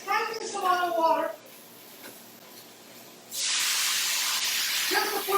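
Water splashed into a hot pan of greens with garlic and anchovy paste bursts into a loud sustained steam hiss, with a person talking before and as it starts.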